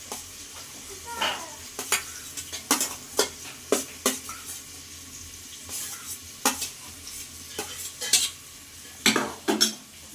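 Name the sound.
sautéing onion, carrot and green chili in a pressure cooker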